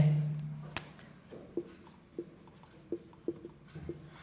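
Pen writing a maths solution on paper, a series of quiet scratchy strokes in short bursts, close and faint, with no talking.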